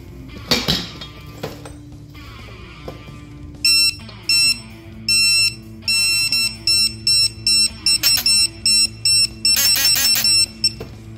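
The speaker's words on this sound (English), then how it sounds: "This one's gonna vibrate and make noise and beep." A digital torque wrench beeps while tightening a Shovelhead motorcycle cylinder, sounding a run of sharp, even electronic tones that speed into rapid pulses, with metallic clinks of tools on the engine.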